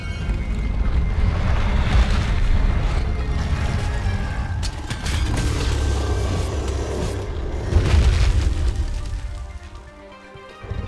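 Heavy rumbling impacts and whooshing from a monster's tail attack in Monster Hunter World, deep booming thuds rolling under a windy, swirling game soundscape.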